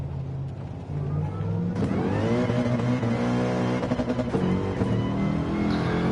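GT race car from the British GT series in the game Assetto Corsa Competizione, its engine revving steadily and climbing in pitch through the gears, loud and close with no voices.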